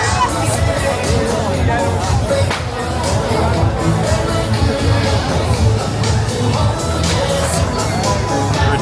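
Dense festival crowd packed in the streets during Chinese New Year in Penang, Malaysia, a constant loud babble of many voices close around with occasional shouts, people barely moving.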